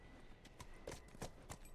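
Horse hooves clip-clop at a steady walking rhythm in The Last of Us, a run of distinct, fairly close thuds on hard ground with faint ambient background and no talk.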